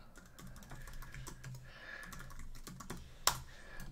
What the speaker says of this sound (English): I will type in an email in here.